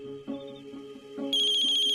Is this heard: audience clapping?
no